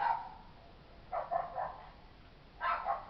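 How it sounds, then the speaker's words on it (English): A dog barks outdoors at a distance, two short bursts of faint yelping barks separated by quiet gaps, heard alone. "there's a dog barking outside"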